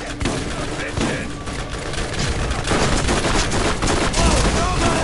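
Dense, continuous gunfire fills the fight in the video game Borderlands, shots overlapping into a loud roar with voices shouting over the chaos.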